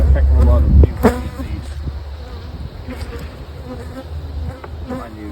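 Honey bees buzz around their hives during rain, with a steady close drone and a few louder passes near the ear, while a person talks intermittently.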